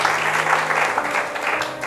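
A church congregation breaks into loud, continuous applause, a dense wash of clapping close around, with a few voices mixed in throughout.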